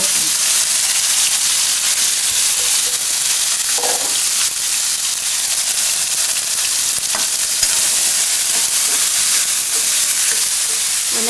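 Broccoli sizzles in hot oil with cumin and asafoetida, giving a loud, steady hiss with a few stirring scrapes and clicks, close up.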